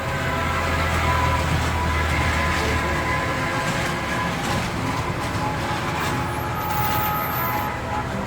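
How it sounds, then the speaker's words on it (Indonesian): A mini cable car runs along a high rail above a footpath at a farmhouse in Lembang, a loud, steady rumbling roll that fills the whole stretch, with a faint high squeal near the end. "terlihat kereta gantung mini yang melintas di atas rel tinggi"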